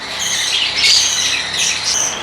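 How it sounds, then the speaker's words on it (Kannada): Java sparrows and finches in the bird section of a pet shop make a continuous, bright chorus of high squawks and chirps that stays fairly loud throughout, with no talk. "ಸೊ ಮೊದಲನೇದಾಗಿ ನೀವು ನೋಡ್ತಾ ಇರೋದು ಜಾವಾ ಮತ್ತು ಫಿಂಚಸ್."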